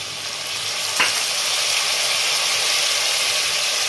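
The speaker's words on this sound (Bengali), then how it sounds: "কচুটা ভালো করে একটু ভেজে নিই" Taro pieces frying in a pan, a loud, dense, steady sizzle with a single sharp utensil tap near the start.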